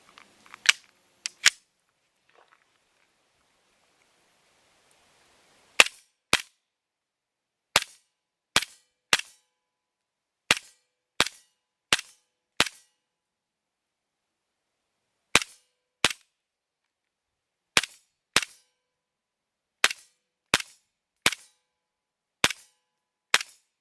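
Cybergun VFC FN FNX .45 Tactical airsoft pistol firing, about twenty sharp, close single shots in irregular groups separated by silent gaps, with no talking.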